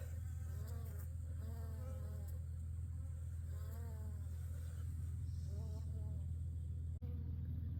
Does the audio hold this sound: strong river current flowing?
no